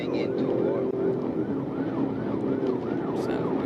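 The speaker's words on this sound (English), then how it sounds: "Listen to that car, man." A wailing police siren sweeps up and down steadily during a police chase, repeating in a regular rising-falling pattern over a continuous roar of a car engine and road noise, loud and close throughout.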